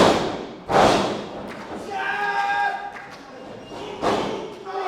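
A heavy wrestling-ring impact from a shotgun drop kick: a sharp loud thud early, followed by crowd noise and further duller thumps, close and punchy.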